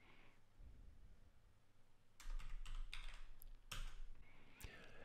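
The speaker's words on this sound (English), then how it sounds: "So I'm going to just type in those parameters here." Faint typing on a computer keyboard, a short run of quick, close keystrokes after a quiet start, with no talking.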